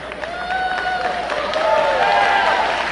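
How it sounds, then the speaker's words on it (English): A pro wrestling crowd applauds and murmurs in a steady wash, while an announcer's voice talks over the noise. "Round of applause."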